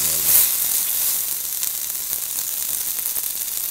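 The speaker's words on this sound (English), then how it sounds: "The other side is in the process of being browned" An eye round beef roast sears in a hot pan, giving a loud, bright, continuous sizzle that flares briefly at the start and then settles into a steady hiss.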